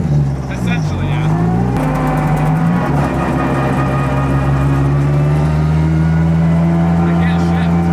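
Car engine revving and shifting with no rev matching, a loud steady drone that climbs in pitch, dips during a gear change, then settles into a sustained high hum, with people talking over it.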